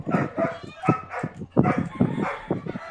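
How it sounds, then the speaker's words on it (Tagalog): A dog barks again and again in quick, close, fairly loud yips and woofs, the barks coming in an irregular string over a quiet indoor background. "Ang ingay ng aso ko eh."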